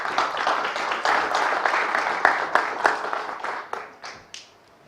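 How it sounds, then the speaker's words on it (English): A conference audience at a decentralized knowledge graph event gives a round of applause as a speaker comes to the stage, a full spread of claps that thins into a few scattered, separate claps before dying away. "give a round of applause for Noemi."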